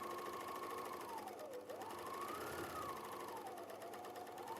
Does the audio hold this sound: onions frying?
no